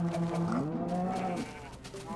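Sheep bleating in the video game Minecraft, a wavering, tonal bleat running through most of the short moment, fairly close and loud over a background hum.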